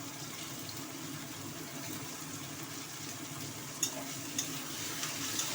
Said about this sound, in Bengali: মশলাটা এবার আমি কষাবো